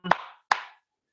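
Two sharp hand claps ring out close and crisp, about half a second apart, each with a short ringing tail, in a quiet indoor room.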